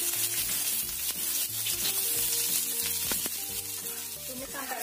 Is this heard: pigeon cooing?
no